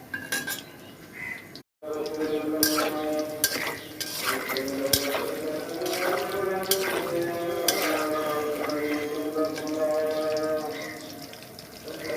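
Fried chicken balls tossed with onion in a pan, a spatula scraping and clinking against metal repeatedly over a soft sizzle, close and fairly loud after a brief silent gap near the start.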